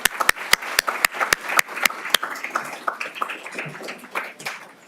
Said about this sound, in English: let's give a round of applause for this group